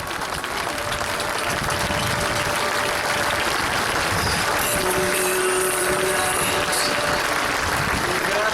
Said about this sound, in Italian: Diamo il benvenuto alla pattuglia con un forte applauso.